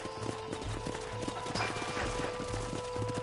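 In a cowboy video game, several horses' hooves clip-clop in a quick, uneven rhythm over a low ambient drone.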